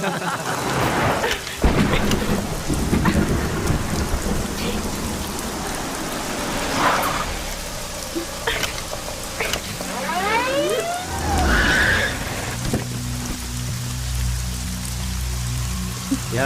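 Heavy rain keeps up a steady wash in a movie scene, with low rumbles of thunder rolling underneath and a few brief whooshing and tonal effects layered over it.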